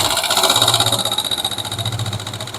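A Honda 125 motorcycle under restoration, in rough condition, idles close by with a loud, steady pulsing putter and an even, rapid beat throughout.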